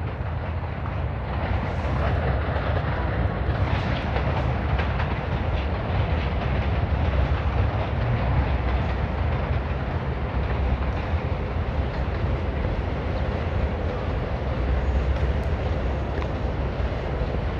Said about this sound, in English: You're gonna hear some subway sounds though, because one's crossing right now and you can hear it.